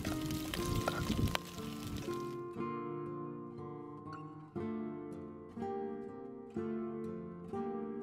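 Prawn shells and heads frying in a pan for a Spanish seafood paella from Cadaqués, Catalonia: a bright sizzle that soon fades, followed by faint, repeated musical tones.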